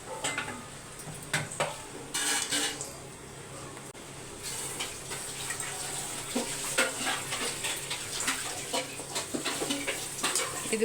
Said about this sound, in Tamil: அப்பளத்தை பொறிச்சிட்டு இதிலே கோவக்காவை வறுத்துடலாம்